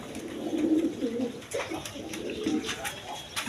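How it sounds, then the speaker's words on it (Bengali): A Najrana Kaldom female pigeon coos in a low, throaty rumble, repeated several times close by over a steady background hum with faint room noise. "নাজরানা কালদম মাদি কবুতর"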